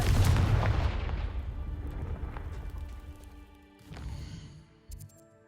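A Confringo fire spell blasts in Hogwarts Legacy on PS5, a heavy booming impact that rumbles and decays over a few seconds, followed by a second smaller burst and fading crackle.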